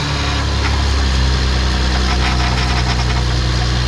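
A car engine runs loudly and steadily up close after oil pan gasket and rod bearing service, a constant idling drone with a slight rise and a rough, vibrating undertone.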